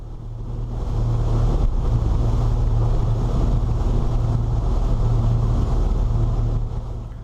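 A motorboat runs fast, about 30 mph, across a lake in stormy weather, its engine droning steadily under loud wind buffeting and rushing water, swelling in after a second and holding constant without voices.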